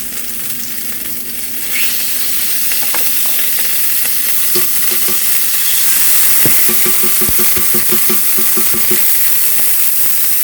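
Avocado oil sizzles loudly in a cooking pot while chicken, potato and spinach soup is being made, a steady hiss that swells midway, with clinking pot and utensil taps punctuating it.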